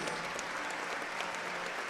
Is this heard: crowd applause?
yes